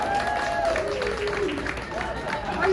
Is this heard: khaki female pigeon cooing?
no